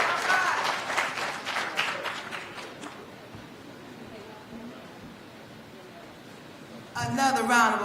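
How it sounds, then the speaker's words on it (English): Audience applause at a Kwanzaa kinara lighting event swells at the start, then thins and fades into a murmur of crowd noise before a voice cuts in near the end. "Another round of applause, please, for Brother Paul Taylor."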